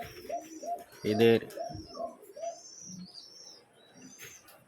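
Pigeons coo repeatedly in a loft, soft rounded calls in a loose rhythm with chirps and a brief louder flutter, while someone speaks over them.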